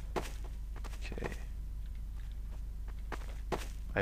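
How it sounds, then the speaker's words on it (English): Footsteps in Counter-Strike: Source, a series of distinct thudding steps at irregular intervals over a constant low background hum, some close and sharp, others fainter. "I heard something. I heard footsteps."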